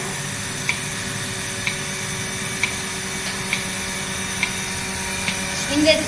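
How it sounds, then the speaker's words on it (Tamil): Pulsator of a Rapid 100 milking machine running steadily, a continuous mechanical hum with faint, regular clicks about once a second, close and fairly loud. "இந்த பல்சேட்டர்லேருந்து சவுண்டு கேட்கணும்."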